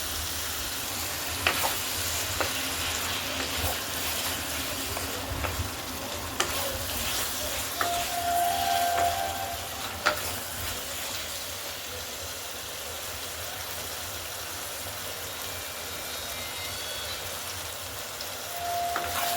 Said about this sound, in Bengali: মশলাগুলো কষবেন তত রান্না ভালো হবে কষতে দেখবেন কষতে কষতে দেখবেন ভালো করে তেল ছেড়ে আসবে